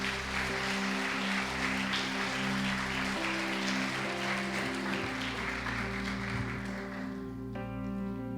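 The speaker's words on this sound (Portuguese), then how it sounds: "aplauda o nome do Senhor Jesus" A congregation claps together in a church service, a sustained wash of applause mixed with a held musical tone in the background that fades toward the end.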